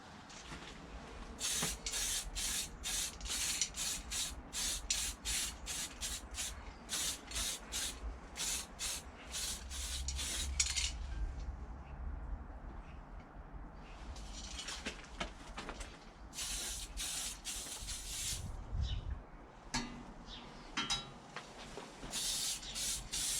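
Green paint is sprayed onto a restored cast clothes mangle in repeated short hissing bursts, a rapid run of spurts followed by longer sprays, with faint bird calls in the background.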